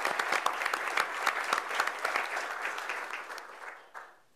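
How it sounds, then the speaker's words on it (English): A crowd at Governor Cuomo's announcement in Puerto Rico claps in steady, dense applause that swells briefly, then tapers off over a few seconds, fairly close and loud. "Let's give her a round of applause and thank her for it."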